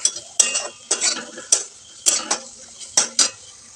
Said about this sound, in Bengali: জিরে আর মিট মশলার গুঁড়োটা দিয়ে আমি একটু নাড়াচাড়া করে নিচ্ছি।